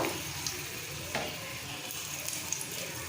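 A bay leaf and dried chilies drop into ghee heated on a low flame, giving a faint, steady sizzle with a few soft crackles and pops throughout.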